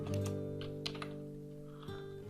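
Light, quiet keystrokes on a computer keyboard while code is typed in Android Studio, a few scattered clicks over a steady electrical hum, with no one talking.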